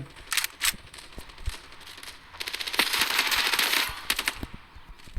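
Rapid bursts of machine gun fire in the video game Standoff 2 crackle in short volleys, building to a sustained stretch of fast shots, loud and close with no voices.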